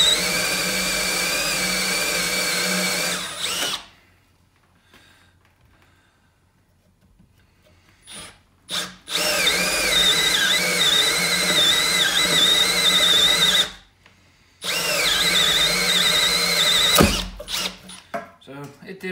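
Milwaukee M12 1/2-inch hammer drill spinning a hole dozer hole saw through drywall and a drywall screw, a loud whining motor in three long runs broken by short silences.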